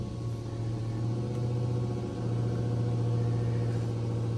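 Ram TRX supercharged engine fitted with a Wragth Motorsports 5-inch intake, a steady loud rumbling drone that holds through a pull with one brief dip partway, no talking.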